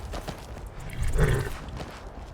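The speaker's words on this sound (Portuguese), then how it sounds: "Tem um cavalo aqui." A horse in the game Skyrim snorts and neighs once, with soft clip-clop of hooves around it, fairly faint and close against a quiet background.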